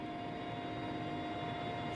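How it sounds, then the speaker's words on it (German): A helicopter carrying a commander's flag-draped coffin gives a steady, muffled engine drone that holds level throughout, fairly faint and distant. "Der Sarg des Kommandanten Massoud, den diese Männer mit der Nationalflagge bedecken, ist soeben in den Hubschrauber verladen worden"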